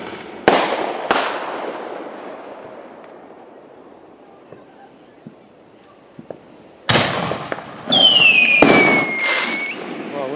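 Fireworks burst over a lake at night: two sharp distant booms, a quiet stretch, then a loud cluster of bangs with whistling rockets, while people talk nearby.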